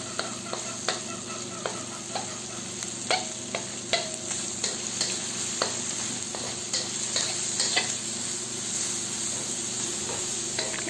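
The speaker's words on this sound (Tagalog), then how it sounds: "lutuin lang natin ang kamatis ng 3 minuto or hanggang sa lumambot na ito" Tomatoes softening in a pan for pork binagoongan with eggplant, a continuous close sizzle punctuated by regular spoon scrapes and stirring knocks against the pan, no voices.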